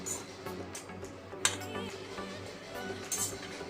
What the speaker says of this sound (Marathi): कोथिंबीर घालून परत एकदा परतवून घ्या